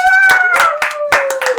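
A classroom audience claims for a student during a maths test review, a short burst of loud, close handclaps blended with cheering voices and a sustained whistle-like tone.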